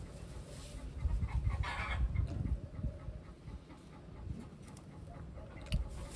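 Pigeons kept in a pen coo and flutter close by, soft throaty murmurs and occasional clucking calls over a low rustling background, with no talk.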